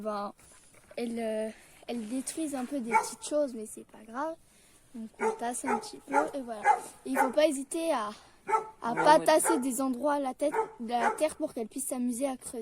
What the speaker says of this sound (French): c'est qu'il y a le chien des voisins qui aboie beaucoup